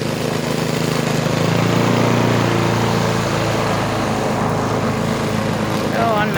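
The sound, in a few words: lawn mower mowing grass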